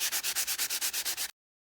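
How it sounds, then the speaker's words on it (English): Sandpaper rubs back and forth over small wooden pieces in quick, even strokes, about a dozen rhythmic scratchy swishes close to the listener before stopping abruptly into silence. "with your sandpaper, you're just going to sand all of the sides of all of your pieces of wood"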